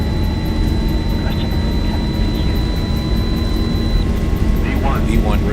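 An airliner rolls for takeoff in X-Plane 11, its steady jet-engine roar loud and constant throughout, while a voice calls out cockpit takeoff calls over it.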